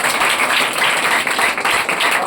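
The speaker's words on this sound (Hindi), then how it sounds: "अमित कुमार, इनके लिए जोरदार ताली लगाएंगे" Dense, steady applause as children clap loudly for a student at a school results ceremony, close and sustained for a couple of seconds without any voices.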